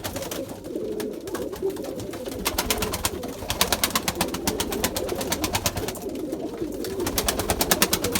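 Pigeons coo in a coop on a rainy day, several birds overlapping in soft throaty rolling calls, with a dense rapid pattering or fluttering texture running through, close by and without speech.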